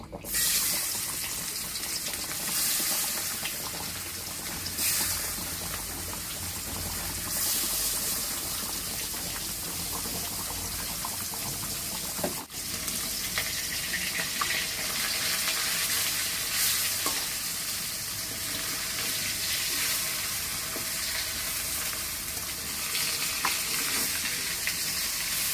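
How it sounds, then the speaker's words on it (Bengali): Pieces of rohu fish fry in hot mustard oil, a loud continuous crackling sizzle that swells and settles, with occasional stirring and a sharp clatter partway through, no voices. "তেল গরম হয়ে গেছে, এবার মাছগুলো ভেজে নেব।"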